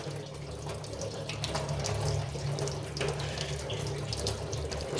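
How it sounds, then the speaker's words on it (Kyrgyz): Hot water runs steadily from a tap into a sink, a continuous close splashing stream with a low hum beneath it, lasting several seconds without speech. "силерге убактылуу ызык суу да чыгып турат да"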